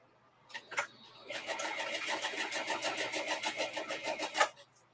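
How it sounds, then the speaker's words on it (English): A quiet sewing machine runs in a fast, even stitching rhythm for a few seconds, after a couple of soft clicks, close and fairly faint. "I have a very quiet sewing machine."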